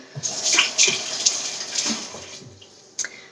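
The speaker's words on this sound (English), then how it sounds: "I'm going to wash my hands real quick." Hands being washed under a running tap, with a steady close rush of water broken by splashes and brief shifts as the hands move through the stream, with no talking.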